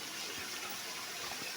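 Water rushes steadily at Apali Falls in Isabel, Leyte, a brief, close, even wash of flowing water with no voices.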